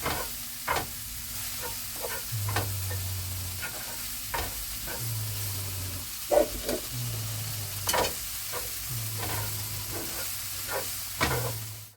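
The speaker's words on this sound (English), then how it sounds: "that is very nicely sauteed down in the butter" Stinging nettles sautéing in butter in a pan, a steady soft sizzle punctuated by periodic spatula scrapes and taps, with a low intermittent hum in the background and no speech.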